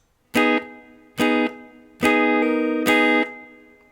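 Electric guitar playing four ringing chord strikes from a riff, the last two held longer, with a short decay between each hit.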